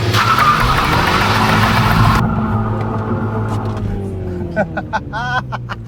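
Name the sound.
Mini John Cooper Works 2019 engine revving, handbrake launch in first gear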